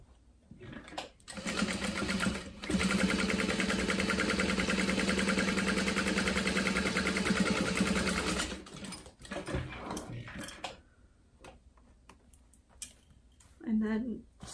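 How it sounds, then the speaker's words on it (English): A sewing machine runs steadily for about six seconds, basting a zipper face down onto the bottom front panel of a zip-top tote bag. It is close and loud, and brief handling noises and a short spoken remark follow. "zipper face down on top of your bottom front panel, and I'm gonna baste that on"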